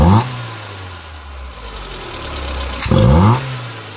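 1983 Toyota Tercel wagon engine running after an idle adjustment. It holds a steady idle near the microphone, with a short rev at the start and another near the end.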